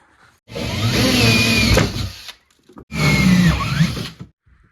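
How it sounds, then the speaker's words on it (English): Two bursts of a loud power drill whining through an OSB subfloor, each lasting about two seconds with a short pause between, close by. "So I'm just gonna drill out the 4 corners"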